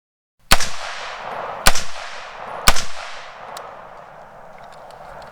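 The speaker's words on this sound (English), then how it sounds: "So we're going to go ahead and take 7 shots at the target." Loud 5.56 rifle shots aimed at a Tactical Scorpion Level III body armor plate about 25 yards away: three sharp, evenly spaced cracks, each trailing off in a rolling outdoor echo, then a fainter pop.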